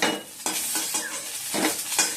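Fried eggplant pieces lifted from a pan of sizzling oil, with a steady hiss broken by several scraping, clinking strokes of a utensil against the pan.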